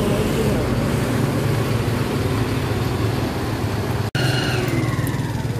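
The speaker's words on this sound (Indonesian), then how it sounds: "Knalpotnya meraung-raung" A bus at Bungurasih bus terminal revs with a loud, steady exhaust roar and rumbling engine, close by, amid terminal noise with possible voices, briefly cut just before the end.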